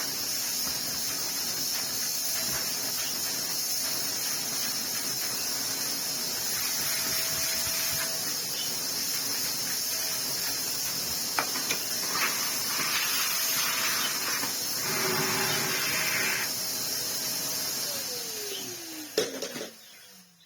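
Dyson DC07 vacuum cleaner with a Brush Control Hepa+ floor tool running on test, a steady whining motor drone with a fairly constant tone that winds down at the end.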